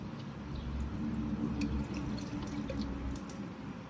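Coolant dripping from the thermostat housing of a Mk5 R32, a quiet patter of drips and trickling liquid, close but faint, with no talk.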